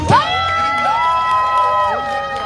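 A crowd cheers and shouts at an outdoor Korean election campaign rally in Dobong-dong, with sustained whooping tones rising over a steady, dense roar for a few seconds.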